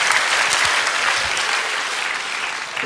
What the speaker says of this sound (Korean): 박수 한번 쳐줘야죠